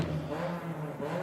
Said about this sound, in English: Some 40 cars here across the three classes are coming to life.